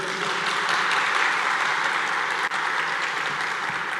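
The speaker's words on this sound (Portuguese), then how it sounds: "Uma salva de palmas aí para os veteranos." A church congregation claps for veteran church workers, a sustained wash of applause from a large crowd that stays dense and even for about four seconds.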